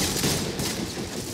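Rapid gunfire from the video game Modern Combat 5 Blackout forms a dense, continuous burst of shots, loud and close, with no talk over it.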